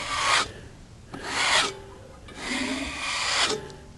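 Hand scraper rasping across milled red oak in three firm strokes, each a broad dry scrape, close and loud with short pauses between.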